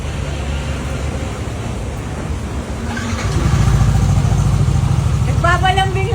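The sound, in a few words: Yamaha NMAX scooter engine starting and running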